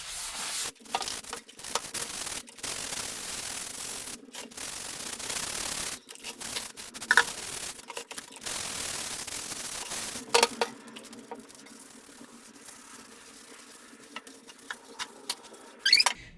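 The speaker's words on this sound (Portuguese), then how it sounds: "achei que é melhor, gente, esfregar com a esponja" A floor is scrubbed with a sponge and brush while being cleaned with a homemade gel disinfectant, giving close, irregular rubbing and swishing strokes, with occasional knocks and pauses.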